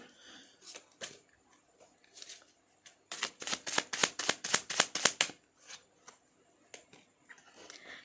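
Message cards are shuffled for a bedtime card reading. A few soft handling taps lead into a fast, loud riffling burst of about two seconds, followed by scattered quieter flicks.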